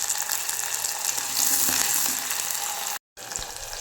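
Split green chilies and a sprig of curry leaves frying in hot sesame oil, a loud, steady close-up crackling sizzle with brief spattering pops, cut by a short dropout near the end.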